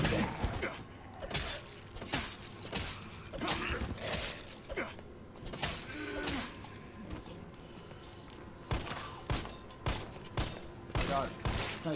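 A scoped assault rifle fires in Resident Evil 3: sharp, fairly faint single shots spaced irregularly, with a few quicker clusters. Someone talks between and over the shots.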